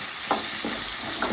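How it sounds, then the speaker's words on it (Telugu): Green chilies, cumin and curry leaves frying in a pan for a ridge gourd chutney, a steady hiss with three brief stirring scrapes. "మంచిగా వేగాలండి మిర్చి."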